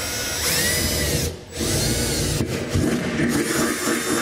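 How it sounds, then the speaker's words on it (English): Power drill boring a pilot hole with a small bit, under a truck bed while installing a B and W Companion 5th wheel trailer hitch underbed kit; a loud, close, high-pitched whine runs continuously, dipping briefly once before resuming. "So I'm first going to use a small bit and drill a pilot hole."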